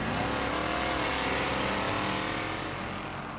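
Drag racing cars on a converted Gimli airstrip, their engines a dense, steady roar held loud and close before easing off slightly toward the end.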